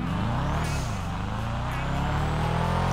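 A video game car engine hums with rising and falling pitch, revving up briefly before a gear change past second gear, steady and close throughout.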